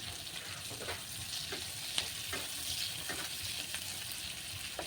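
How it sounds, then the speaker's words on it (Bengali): Chopped onions with bay leaf and whole garam masala frying in oil, a soft continuous hiss with faint periodic stirring scrapes and one small clink near the middle, no voices. "পেঁয়াজ ভালোভাবে ভেজে নিব।"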